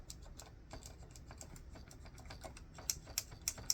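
Dell AT101w keyboard with Alps switches being typed on, a quick run of crisp key clicks close by, with sharper upstroke clicks standing out near the end.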